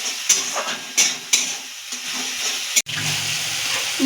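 Egg curry masala being sautéed in a pan for a steamed egg dish, with a steady close sizzle and a few sharp spatula scrapes and stirring clatters.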